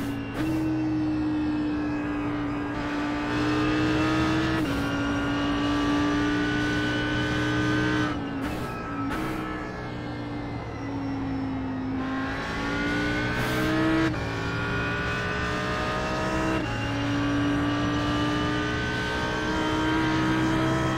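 Audi R8 GT3 race car in iRacing lapping Mosport, its engine droning steadily and loudly throughout with pitch rising and dropping through gear changes and corners, no voices over it.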